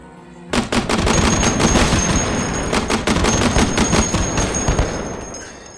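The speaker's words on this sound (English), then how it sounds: "They hip fire rapid fire grenade launchers" A Mark 19 grenade launcher hip-fired rapidly in the VR game H3VR, a loud, dense stream of rapid booming shots in quick succession, sustained for several seconds after a sudden start.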